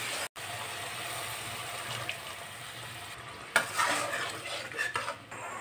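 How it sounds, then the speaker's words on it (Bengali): Water poured into a pan of sizzling fish curry, giving a steady frying hiss that surges louder partway through, with a brief clink of a bowl near the start; no talking. "বাটি ধোয়া জলটা দিয়ে দিলাম।"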